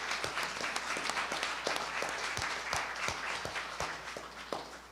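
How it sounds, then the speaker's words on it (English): A town hall crowd in a historic Houston school building claps and applauds, a steady, even wash of many hands with distinct individual claps standing out, fairly soft and distant. "let's clap for history"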